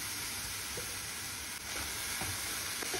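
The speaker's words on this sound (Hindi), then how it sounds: "अपने मावे को भी भून लेंगे" About 200 grams of mawa (milk solids) roast in a pan, producing a constant close hiss and sizzle with faint stirring scrapes and one sharper knock at the very end.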